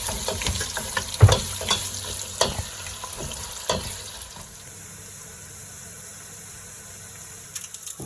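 Onions go into half a cup of hot oil and fry toward light brown, a close sizzle with several clattering stirs and knocks early on that settles into a quieter, steady hiss, no voices.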